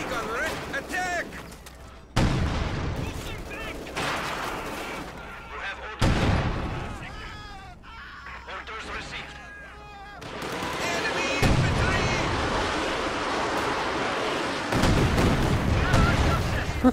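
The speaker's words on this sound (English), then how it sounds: "That was a concentrated barrage." Artillery barrage in the World War II strategy game Company of Heroes 2, with a series of booming shell impacts and bursts rolling through a noisy battle soundscape, while soldier voices call out over the din.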